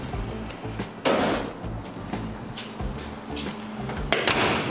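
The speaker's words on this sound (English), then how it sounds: "And slam shut door as well." Door of a wet blasting cabinet loaded with glass beads slams shut with a sharp, loud thud, followed by clattering and a second bang near the end, all close by with a steady mechanical hum underneath.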